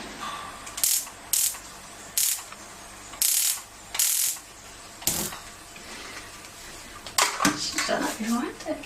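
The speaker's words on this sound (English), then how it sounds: "I'm just going to light the stove and pop the pan onto heat." A gas stove being lit, its igniter clicking in a series of short, sharp bursts at irregular intervals, close and fairly loud, with a voice speaking near the end.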